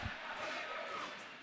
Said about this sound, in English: Crowd really getting into it, trying to will their Savage team back into this game